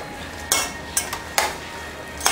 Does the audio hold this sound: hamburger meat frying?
yes